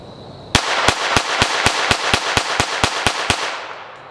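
About a dozen sharp, evenly spaced gunshots from a Smith & Wesson M&P 22X .22 LR pistol fired in quick succession at a range, loud and close, with no talking.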